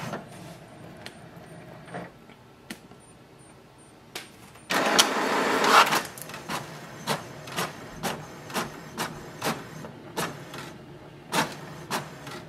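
An HP DeskJet 2734e printer making a copy gives a dense whirring burst of paper feed, then a steady run of evenly spaced mechanical clicks and ticks, close and fairly quiet, with no one talking.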